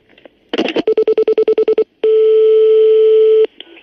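Telephone handset clatters down with a brief rattle, then a rapid run of about ten short evenly spaced dialing beeps, followed by a long steady tone lasting over a second and a faint final blip.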